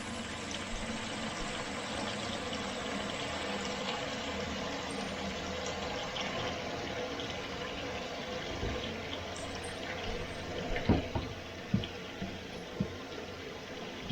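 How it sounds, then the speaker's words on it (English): Cold tap water runs into a sink while preparing a cooling bath for Instant Pot yogurt, a steady continuous rushing flow near the listener, with a few knocks and clunks toward the end. "we're going to fill that up with some cold water"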